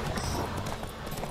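Horse hooves galloping in The Witcher 3, a steady clip-clop rhythm running under a dense layer of game music and ambience throughout.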